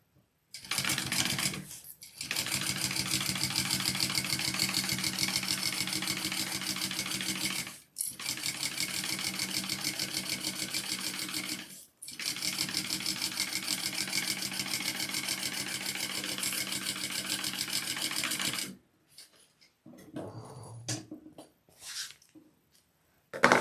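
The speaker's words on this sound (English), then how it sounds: "go ahead and sew that on at your seam allowance" A sewing machine stitches a handbag's accent piece at the seam allowance, a close, steady rapid whir and clatter running in long stretches with brief pauses between, then stopping near the end with some faint handling noise.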